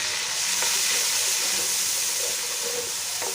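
Green chilies, garlic, ginger and whole coriander seeds stirred in a hot pan for an arvi masala dish give a loud, steady, close sizzle with faint scraping from the stirring.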